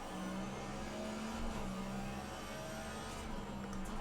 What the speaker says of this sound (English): Heard the engine rev out and lost a little bit of time to Levine.